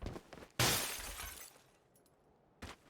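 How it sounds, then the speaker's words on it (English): Glass shatters in PUBG, a sharp loud crash with a tinkling tail that fades over about a second, followed by a quieter second break shortly after. "Gundam's breaking this glass"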